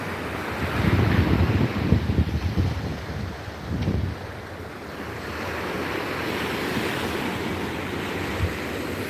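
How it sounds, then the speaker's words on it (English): High tide surf rolls against a port in the Channel Islands, California, a loud steady wash of breaking waves mixed with gusty wind rumbling on the microphone. "we are looking at a high tide"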